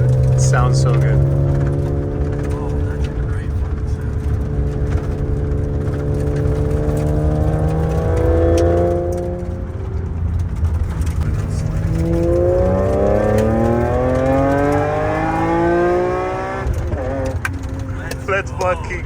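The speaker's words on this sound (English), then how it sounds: "We got a ride in Jan's 3 Series BMW wagon, which was fully M3 swapped" BMW 3 Series wagon fitted with an M3 engine swap accelerating hard from inside the cabin, engine note rising and falling through gear changes, loud and near, with people talking over it.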